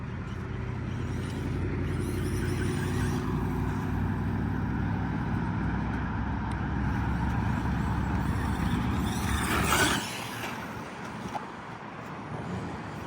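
A Mini Kraton RC truck drives over a hill, its electric motor and tires giving a loud, continuous close whine and rumble that surges near the end, then drops to a quieter hum.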